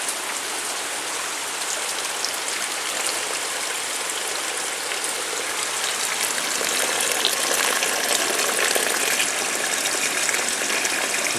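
Light rain falling steadily outdoors near a drain, a dense, even patter of drops on hard surfaces that swells slightly louder in the second half, with no voices.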